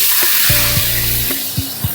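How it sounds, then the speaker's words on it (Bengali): Water poured into a hot frying pan of fried black cumin and green chillies hisses in a loud, steady sizzle, broken by a few sharp knocks and scrapes of utensils against the pan. "এবার এর মধ્যে দিয়ে দেবো জল।"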